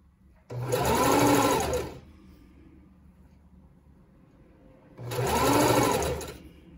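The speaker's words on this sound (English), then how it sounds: "So I'm just going to stitch this on, and like last time, I'll give a little bit of tension on this black Lycra." A sewing machine stitches elastic onto black Lycra for a leotard in two steady whirring runs of about a second and a half each, with a quiet pause between them.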